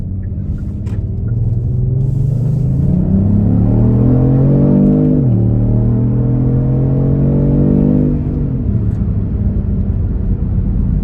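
Kia Stinger engine revving with enhanced artificial engine sound, a loud steady rumbling drone that climbs in pitch, drops sharply midway, then holds and fades, with no talk over it.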